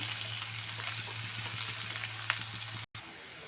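Curry leaves fry in a pan with a steady, even hiss of oil over a low background hum. A single faint tap sounds partway through, and a brief dropout comes near the end. No one speaks.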